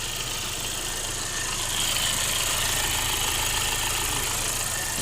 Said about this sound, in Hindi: देख सकते हो गाइस स्टार्ट है अपनी गाड़ी,